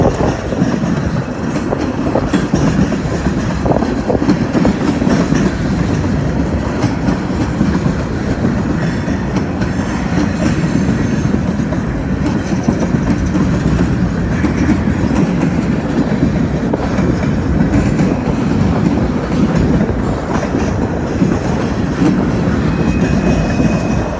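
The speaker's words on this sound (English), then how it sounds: "Let's have the majority of the train around the curve." A train rolls steadily around a curve, loud and continuous, wheels clattering and rumbling on the rails with faint squeals, and no voices.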